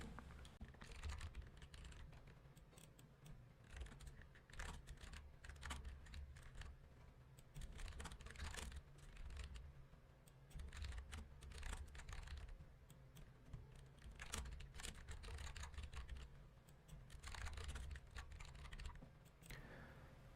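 Steady typing on a computer keyboard while entering text for a web page, with dense, continuous clicking key presses that keep up at close range and without a break for about twenty seconds, with no talking.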